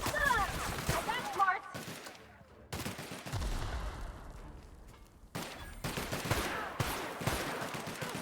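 Gunfire in The Outer Worlds, a first-person shooter, with bursts of shots mixed among game sounds and a talking voice, coming in uneven clusters with short gaps between them.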